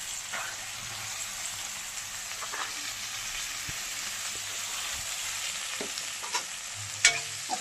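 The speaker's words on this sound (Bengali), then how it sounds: "এখন নাড়িয়ে ভালো করে ভেজে নিচ্ছি।" Onion, ginger and chillies stir-fried for broccoli chicken give a steady, close sizzle with a few light scrapes and clinks of stirring, and no one speaks.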